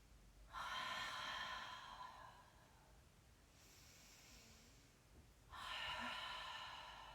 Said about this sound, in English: You might do some nice cleansing breaths, inhaling through your nose, exhaling through your mouth.